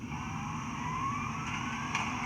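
Digitrax sound decoder in an HOn3 model steam locomotive on a Rio Grande Southern layout runs its dynamo sound, a steady electric whine with a faint rising tone over a low, even hum.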